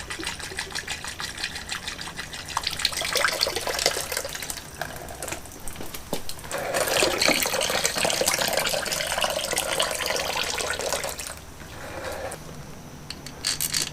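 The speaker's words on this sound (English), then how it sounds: "now it's time to flush some coolant through the system, get all that water out" Coolant gushes and pours steadily through a Yamaha YZ450 motorcycle's cooling system, with a hiss like water pushed through tubing, surging louder midway and then easing off.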